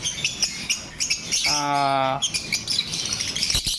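Pet birds for sale, a cock and hen pair, chirp in short bursts at close range, with one sustained harmonic call in the middle and busy background noise around it.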